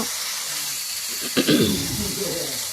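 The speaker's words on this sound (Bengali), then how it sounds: "এবার এর মধ্যে আমি মাংসটা দিয়ে দেব মাংসটা দিয়ে একটু নাড়াচাড়া করে নেব" Meat added to a hot pan and stirred while cooking chicken kosha in a village kitchen, giving a steady hiss of sizzling with a brief clatter and louder burst as it is turned.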